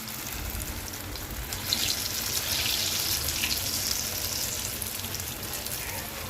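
Small cowpea (bobbarlu) fritters mixed with onion, green chilli, ginger and cumin frying in hot oil, a steady dense sizzle that swells slightly midway, fairly close, with no clear voices.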